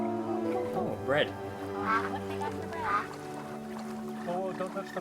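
Birds quack and honk a few times in the video game That Dragon, Cancer, short calls over a steady musical drone while a person talks.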